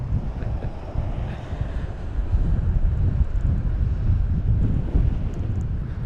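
Strong storm wind at Heathrow airport buffets the microphone in a loud, continuous low roar that swells and gusts, with a faint hint of distant aircraft in the background.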